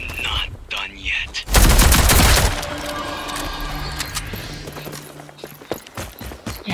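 Rapid automatic gunfire from the video game Rogue Company bursts loud and dense for about a second, then scattered shots and game effects continue more quietly, with a voice talking briefly at the start.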